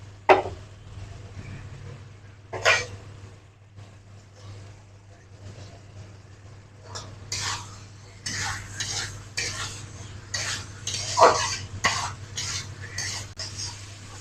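Onion stalks stirred into a pan of rohu fish masala with a little water, giving repeated close scraping and clattering strokes over a faint sizzle, with a few sharper knocks from the utensil against the pan.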